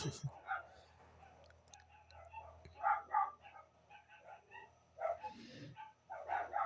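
Several dogs bark and yip at a distance, in scattered bursts, fairly faint, with some voices mixed in.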